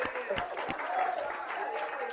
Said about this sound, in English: Let's praise Him with another hand clap.